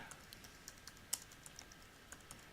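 Faint, soft clicks of keys on a computer keyboard, spaced unevenly with one sharper tap, over a quiet hum of room noise.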